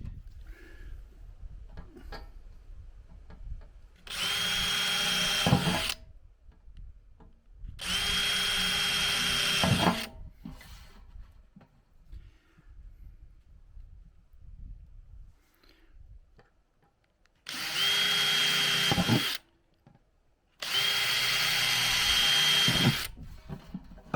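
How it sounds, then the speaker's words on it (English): A small drill bit boring a hole through metal on a plant stand being refurbished, in four separate bursts of whining power-drill noise, each a few seconds long, with quiet pauses between. "I'll come back with a small drill bit and put a hole on each side where the chisel will go through"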